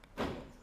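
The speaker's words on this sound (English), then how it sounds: "And with our remote, we'll show you a lock," A DeLorean's door lock actuating by remote, a single muffled thunk followed by a brief fading rattle, close and moderately quiet, with no talking.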